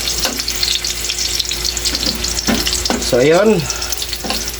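Onion and garlic frying in a pan for dinuguan, a steady close sizzle with stirring clatter and scraping throughout, while a person speaks briefly over it.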